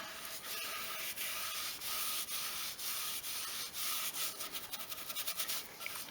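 Old pallet wood sanded by hand, steady rhythmic rasping strokes close up, repeating back and forth with short pauses between passes and quickening toward the end.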